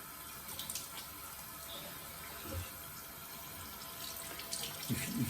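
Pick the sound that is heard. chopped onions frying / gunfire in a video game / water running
water running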